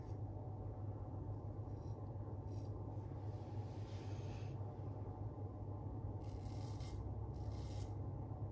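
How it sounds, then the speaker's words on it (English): A safety razor glides with no pressure across facial stubble, making faint, brief scratchy strokes in two short spells over a steady low background hum. "No pressure at all, just letting the razor glide."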